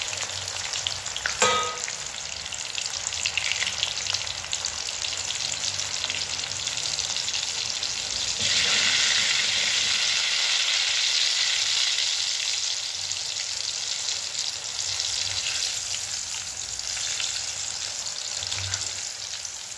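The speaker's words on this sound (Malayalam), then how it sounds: "നല്ല തിളച്ച എണ്ണയിലേക്ക് ഇത് വാരി ഇടുക" Potato French fries bubble and hiss in hot oil on medium flame, a continuous dense frying crackle that stays close and steady, with one sharp clink early on.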